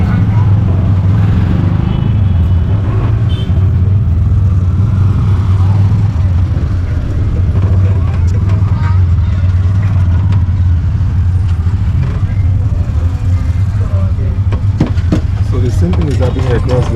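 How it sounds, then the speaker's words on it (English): Slow, congested road traffic in Monrovia, Liberia, amid road construction: a steady low engine hum and idling vehicles close by, with someone talking over it much of the time. "Cars are not really moving freely."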